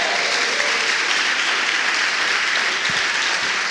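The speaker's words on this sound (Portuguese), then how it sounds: "Se você crê nisso, dá um glória a Deus aí," A church congregation applauds in sustained, dense clapping that fills the room evenly from start to finish, loud and continuous with no distinct voices standing out.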